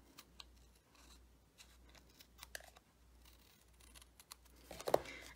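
Quiet scissors snip at card paper to trim a handmade animal-themed greeting card, several soft, short cuts spaced apart, ending with a sharper snip near the close.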